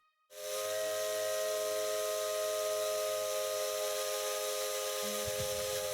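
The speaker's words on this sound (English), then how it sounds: "I reply with the steam whistle." A steam locomotive whistle, the 8620 engine in the video game Maitetsu, blows one loud, steady, sustained tone with a hissing edge, starting abruptly and held for several seconds.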